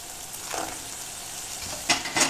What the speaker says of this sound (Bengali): আমার জিলাপিটা হালকা লাল লাল করে ভাজা হয়ে গেছে, আমি এখন এগুলো তুলে শিরাতে দিয়ে দিচ্ছি